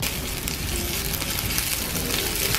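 Chopped onion, ginger and garlic sizzle steadily in hot oil in a pan for a Bengali snake gourd fry, a dense continuous frying hiss with no voices.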